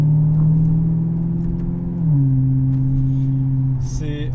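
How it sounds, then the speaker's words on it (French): A Maserati GranCabrio's 4.7-litre Ferrari V8 revs loud and close, holding a steady growl that steps down in pitch about halfway, then rises with a sharp final flare of revs. "la symphonie du V8 italien."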